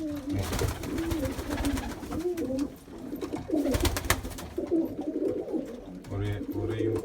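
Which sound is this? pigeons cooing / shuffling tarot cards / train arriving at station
pigeons cooing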